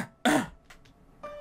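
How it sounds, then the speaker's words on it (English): One short, sharp throat-clearing cough close by, followed by a fainter second catch of breath and then a soft murmur. "They lightly cough over and over again, twice."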